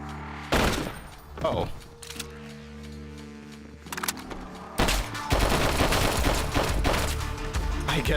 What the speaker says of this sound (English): I guess I just accidentally used the AK there